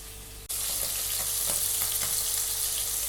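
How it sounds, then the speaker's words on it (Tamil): Paneer cubes hit hot ghee with a sudden loud hiss after a short quiet start, then a steady, close, even sizzle with small pops runs to the end without any voices. "ஒன் சைடு நல்லா ஃப்ரை ஆகட்டும், திருப்பி போட்டுக்கலாம்."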